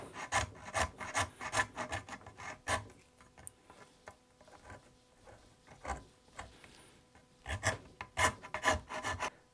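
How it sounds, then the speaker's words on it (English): Old glue being scraped off a wooden foot stool by hand, with bursts of rough, rasping strokes in quick rhythmic runs, pausing briefly in the middle before resuming, close and clear with no talking. "So I can now scrape off this old glue."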